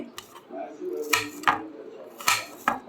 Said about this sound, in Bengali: প্রীতি শারমিন পেঁয়াজ কাটছে আমাদের সাদা খিচুড়ির সাথে খাওয়ার জন্য টাটকা পেঁয়াজ লাগে